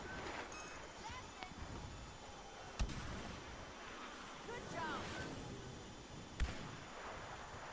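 Gunfire in the Star Wars Battlefront beta, a dense game mix of distant shots with two sharp louder blasts, heard under a player talking throughout.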